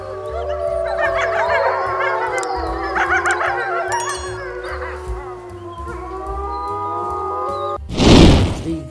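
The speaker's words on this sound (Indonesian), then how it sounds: "Serigala." A wolf howls in long, wavering tones over a steady background beat in a children's learning piece comparing carnivores and herbivores, ending with a brief burst of noise.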